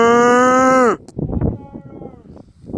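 A cow on a farm lets out one loud, close, drawn-out moo that ends abruptly, followed by quieter rustling and faint bovine grunts.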